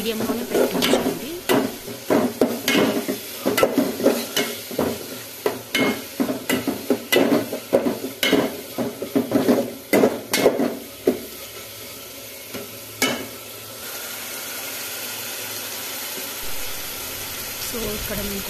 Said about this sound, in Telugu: సో ఇక్కడ నేను కొంచెం ధనియా పౌడర్ యాడ్ చేస్తున్నాను